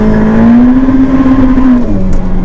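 A Ferrari F8 Tributo V8 accelerates hard, its loud engine note climbing steadily in pitch for about two seconds before easing off slightly, close and continuous with no talking.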